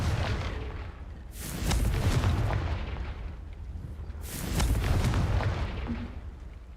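Two heavy fiery blasts of the Confringo spell in the video game Hogwarts Legacy, each a loud booming burst that rolls off slowly, spaced a few seconds apart.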